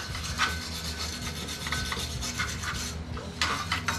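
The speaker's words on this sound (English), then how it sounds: "we're gonna take a brush and just really kind of get in there and try to clean it up" Wire brush scrubbing aluminum to strip oxide before TIG welding, a steady close rasping scrape with rhythmic strokes and brief pauses, no talk.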